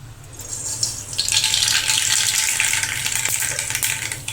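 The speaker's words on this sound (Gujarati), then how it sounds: "આપણું તેલ ગરમ થઈ ગયું છે તો આપણે તેમાં 1 ચમચી રાઈ," Mustard seeds sputter and fry in hot oil for an eggplant curry, a steady bright sizzle with crackling pops that swells after the first second and stays loud, with no voices.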